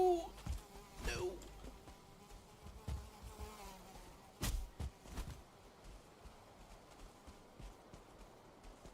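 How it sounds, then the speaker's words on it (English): A buzzing mosquito-like insect drones in a video game, with thin whining hums and intermittent sharper bursts over a low, busy background. "I hear a mosquito"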